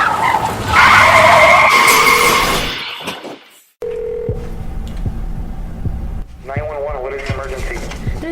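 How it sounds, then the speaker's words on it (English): Car tires skid loudly at a staged crash at a high school, a harsh screech that fades out before people talk over a lingering tone. "There's been a car crash at P9 High School."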